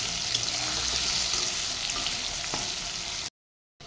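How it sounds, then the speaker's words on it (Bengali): Pieces of rohu fish fry in hot oil until reddish, giving a steady, close, dense crackling sizzle that cuts to silence near the end before briefly returning. "লাল লাল করে ভেজে নেব"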